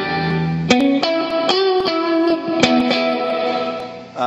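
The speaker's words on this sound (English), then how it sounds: "Here is the hall reverb." Electric guitar through the hall reverb setting of an M9 effects pedal, a sequence of picked notes and chords swelling into a broad, smooth wash that lingers between strums.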